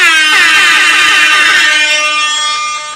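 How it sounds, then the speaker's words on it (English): Loud, blaring air horn sound effect with a dense, layered harmonic blast held steady for about three seconds before cutting off, with no voices. "And you always know it is Linux Sundays because you hear the air horn."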